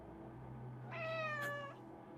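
A single clear cat meow rises from the video game As Dusk Falls, about a second long and moderately loud, over a constant low ambient hum with no talking.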